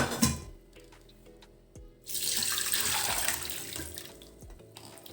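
Water pours out of a bowl of soaked potato shreds into a colander or strainer, a bright rushing splash starting after a couple of quiet seconds with small clinks before, close and steady until fading near the end.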